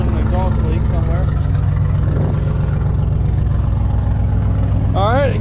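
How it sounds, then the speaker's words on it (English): A 2001 Mazda B3000 pickup idles close by with a small exhaust leak, a steady low throbbing drone, while someone talks briefly over it near the start and again at the end. "A little bit of an exhaust leak somewhere."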